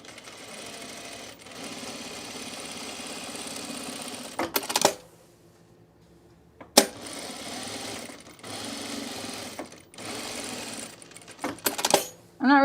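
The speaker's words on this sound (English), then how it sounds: "So then I'm just gonna top stitch this down." A sewing machine top stitches a pocket on men's cargo shorts, running in steady bursts of rapid stitching with brief pauses and small clicks between runs.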